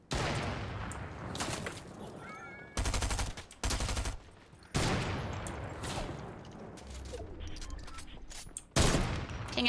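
Gunfire in Fortnite: several dense bursts of rapid shots crack out over a busy game-audio background, with louder volleys near the start, in the middle and again at the end.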